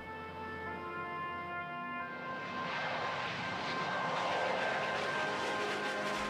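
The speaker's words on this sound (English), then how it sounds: "this piloted aircraft, the U-2, was synonymous with the word spy plane" A U-2 spy plane flies overhead, its steady engine roar holding tonal hum lines before swelling into a broad, loud rushing noise as it passes close by, with no voices.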